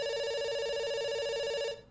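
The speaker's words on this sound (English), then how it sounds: "The phone is still ringing." Telephone ringing in the video game Dr. Langeskov, The Tiger, and The Terribly Cursed Emerald: a single sustained electronic ring, loud and steady, cutting off abruptly just before the end, with no speech.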